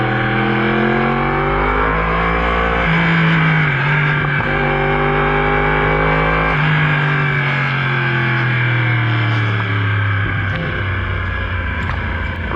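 A 2018 Yamaha R1 sport motorcycle fitted with an Akrapovic Evolution Line full exhaust system, ridden with a loud, steady engine roar and shifting revs, close and continuous with no talk.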